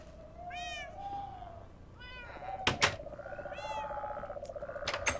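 Frogs croak in a video game set in Rosewood county, with repeated rising calls over a steady low chorus, a couple of sharp clicks partway through, and no talk.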